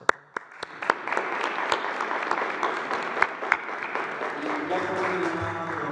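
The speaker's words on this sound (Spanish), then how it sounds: "Felicidades, un aplauso." Clapping from an audience at the Mexican president's morning press conference, starting with a few sharp claps that swell into steady, moderately loud applause over about five seconds before thinning out beneath a rising voice.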